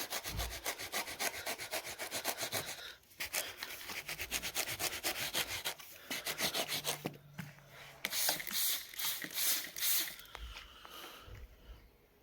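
A gum getter brush scrubs a blood stain on carpet treated with 3% hydrogen peroxide: close, rapid bristly scrubbing strokes in bursts with short pauses between them.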